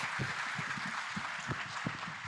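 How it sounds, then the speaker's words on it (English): A conference audience claps for a team, a steady, moderately loud round of applause running throughout with no one speaking over it. "Let's give this team a round of applause."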